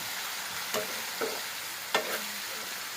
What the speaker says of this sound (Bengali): যেটা পাচ্ছি এটা দিয়ে একটু নাড়াধাড়া করে দিচ্ছি এগুলো একটু এভাবে কষিয়ে নেব ভালো করে